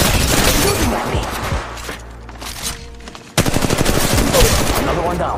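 Rapid automatic gunfire from the mobile battle royale game Apex Legends Mobile, sustained bursts that thin out briefly midway, then return louder and denser, with faint talk underneath.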